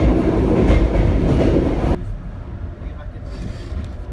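A train in Vietnam, heading toward Da Nang, rumbles and rattles along the rails, loud and steady, then the noise drops abruptly to a quieter, muffled clatter as if a door closed.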